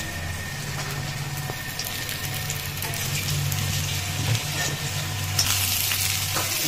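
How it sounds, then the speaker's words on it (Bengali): Cut brinjal and stalks fry in a pan for a Bengali shrimp dish, a steady, close sizzle running without pause and growing slightly louder toward the end, with a few faint stirring scrapes and no talk. "আর বন্ধুরা এইভাবেই আমাদের প্রায় আরও 5 থেকে 10 মিনিট মতন ভেজে নিতে হবে।"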